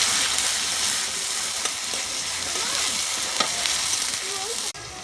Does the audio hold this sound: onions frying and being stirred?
yes